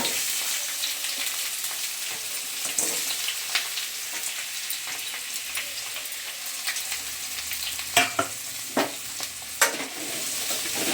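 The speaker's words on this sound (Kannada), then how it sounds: "ಈ ಕ್ಯಾಪ್ಸಿಕಮ್ ಹಾಕೊಂಡು ಫ್ರೈ ಮಾಡ್ಕೊಳ್ಳಿ" Capsicum stir-frying in a pan for a capsicum palya, a steady close sizzle broken by several sharp spoon scrapes and clatters against the pan, with no talking.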